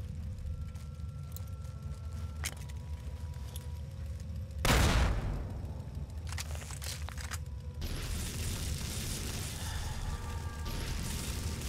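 A frag grenade blast in the game Fallout (Tale of Two Wastelands) against giant fire ants: one loud, booming explosion midway, set against a steady rumbling game soundscape with scattered crackles and a denser noisy stretch afterward.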